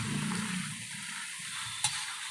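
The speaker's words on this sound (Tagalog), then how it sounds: "Haluin natin ng maigi mga idol." Pork offal stew simmering in a pot, stirred with soft wet scraping and bubbling at moderate distance, with a single sharp clink near the end.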